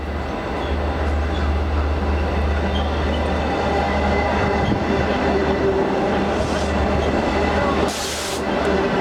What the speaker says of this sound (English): That's a diesel one, double decker.